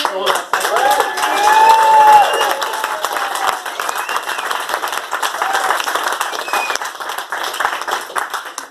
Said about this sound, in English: just big round of applause